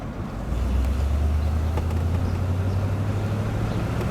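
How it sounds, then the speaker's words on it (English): A 1962 Oldsmobile Starfire convertible's low, steady engine and exhaust hum rises after a brief moment and holds, mixed with wind rush from driving. "you hear the little faint exhaust"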